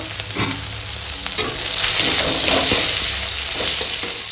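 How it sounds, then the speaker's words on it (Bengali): Onion and chili tempering sizzles loudly in hot oil for a lentil dish, with a continuous close-up frying hiss and a few stirring scrapes and no talk. "পেঁয়াজ সুন্দর লঙ্কা ফোড়নটা দিয়ে দিলাম দিয়ে এখন ভেজে নেবো"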